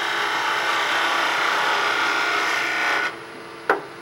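A skew chisel shears across wood fiber on a lathe, a steady rasping cut for about three seconds, then it stops and a brief sharp knock follows.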